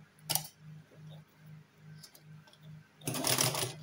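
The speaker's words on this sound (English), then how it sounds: "So you bring it to your sewing machine" A sewing machine stitches fabric for an abaya or bubu gown, running in about seven short, even bursts of low humming whir before a louder rustling handling noise takes over near the end.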